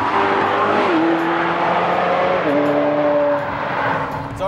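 A McLaren 720S supercar driven hard on a street, its engine note loud and close, the pitch climbing through revs with brief drops at gear shifts, running continuously throughout.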